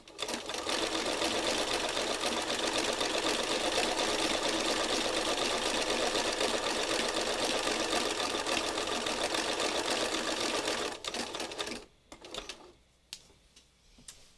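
A sewing machine runs a near satin stitch in a rapid, even whirring chatter, then stops near the end, leaving a few soft clicks and handling noises.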